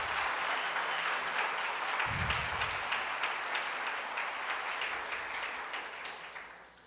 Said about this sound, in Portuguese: Vamos dar um aplauso ao Senhor e selar esse momento?